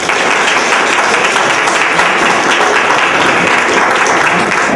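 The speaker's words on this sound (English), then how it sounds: "And a round of applause again for the candidates." A forum audience applauds the candidates with loud, dense, continuous clapping that fills the room for several seconds without a break.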